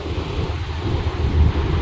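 A big flood on the Mahanadi river at Cuttack, Odisha, with floodwater rushing in a steady, loud roar. It is dominated by low rumble and wind-like buffeting that rises slightly toward the end, with no speech.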